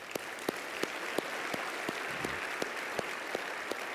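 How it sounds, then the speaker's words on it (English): A conference audience at a plastic surgery meeting applauds in a steady, fairly faint wash of clapping, with a few sharper individual claps standing out at regular intervals over about four seconds. "Let's give them a round of applause."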